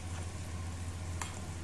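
Masala for a chicken steam roast is stirred and mixed in a bowl, making soft, faint scraping and stirring sounds against a steady low background hum.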